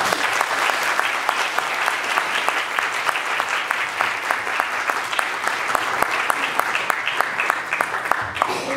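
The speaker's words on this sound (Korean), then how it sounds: "박수로 환영해 주십시오." A lecture-hall audience gives Professor Jeong Jae-seung a welcoming round of applause at a KAIST special lecture, with dense, steady clapping from many hands that stays loud and continuous throughout.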